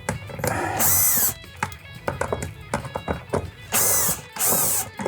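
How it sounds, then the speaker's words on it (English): A power screwdriver backs out small screws from a caravan's wind-up roof antenna, sounding in several short whirring bursts at close range, with quiet tapping and handling clicks between them. "we're going to remove 4 little screws"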